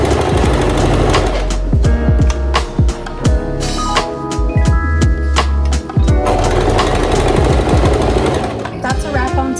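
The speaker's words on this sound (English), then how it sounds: "I'm just gonna keep sewing and we'll see how far I can get" A sewing machine stitches fabric for a top and pants in rapid, repeated bursts that start and stop close by. Background music plays throughout.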